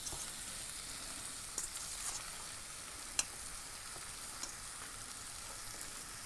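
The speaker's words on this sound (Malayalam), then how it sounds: "നമ്മൾ ഇതിനകത്തോട്ട് ചിക്കൻ ഇടുകയാണ് കേട്ടോ" Chicken pieces frying in a hot pan for a home-style chicken curry, giving a steady bright sizzle with a few soft clicks and stirs, close and without talk.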